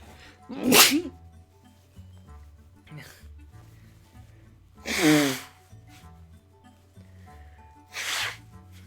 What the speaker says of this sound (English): I'm gonna sneeze.